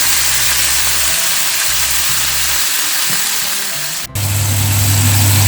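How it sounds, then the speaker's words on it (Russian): Sausages and green asparagus sizzle loudly in a pan as white wine is poured in, a dense steady hiss over a low hum that briefly drops out and then resumes. "И надо добавить немножко белого вина."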